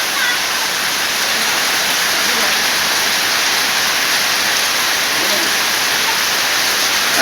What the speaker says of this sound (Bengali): অনেক বৃষ্টি হইতেছে